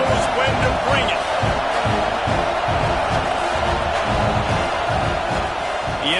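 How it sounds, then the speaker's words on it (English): A college football stadium crowd roars continuously and loudly at a live game as the offense reaches the red zone, a dense sustained wall of cheering with an announcer talking over it. "This crowd knows when to bring it."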